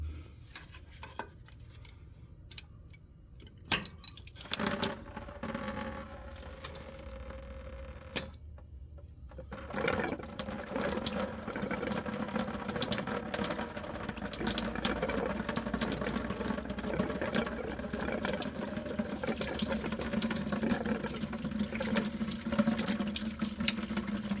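Fluid, apparently engine coolant, drains from a pulled fitting into a bucket, starting as scattered drips and clinks and then settling into a steady close trickling stream that runs on alone for most of the time.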